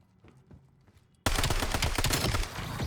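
After a quiet stretch of faint taps, rapid automatic gunfire erupts from an MXR in Call of Duty Black Ops 7 multiplayer, dense overlapping bursts that stay loud and sustained to the end.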